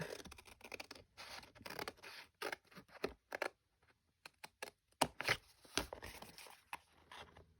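Scissors snip through a piece of fabric or paper for a journal, giving a run of close, quiet, crisp cutting scratches in short irregular bursts with brief pauses, and no voices.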